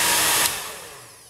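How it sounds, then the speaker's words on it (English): A powerful blow dryer runs on its high speed setting, a loud broadband rushing whoosh close up that begins to fade away within a second. "You can typically tell by the sound of blow dryers how fast they're going."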